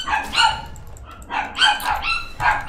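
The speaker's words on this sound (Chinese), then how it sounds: "我的小狗每天晚上都叫" A small dog barks in three short sharp bursts close by, with brief quiet gaps between them.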